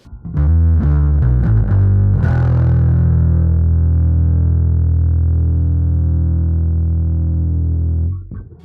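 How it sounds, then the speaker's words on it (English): A bass played through an EHX Bass Big Muff Pi fuzz pedal, all knobs at 12 o'clock, plays a quick run of notes, then holds a thick, buzzing sustained note that cuts off near the end. "And then if I turn the Big Muff on, with everything at 12 o'clock, it sounds like this."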